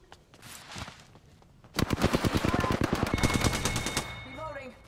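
Rapid automatic gunfire from an Apex Legends match, a dense burst of sharp repeated shots lasting a couple of seconds after a few scattered earlier pops, loud and close.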